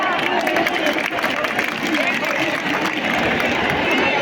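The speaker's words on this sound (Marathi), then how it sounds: "जोरदार टाळ्यांचा कडकडाट." A large crowd at a Maratha peace rally in Beed applauding loudly, dense continuous clapping and crowd noise that holds steady throughout.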